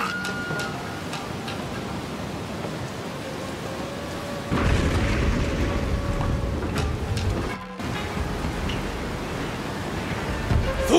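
Heavy rain in the Trek to Yomi game pours as a dense, steady hiss, growing louder partway through with a low rumbling surge, with no clear voices over it.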